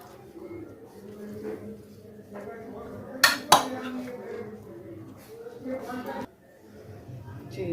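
Fruit chaat being stirred with chaat masala in a bowl, producing soft scraping and a couple of sharp clinks of utensil against the dish, with a voice talking over it.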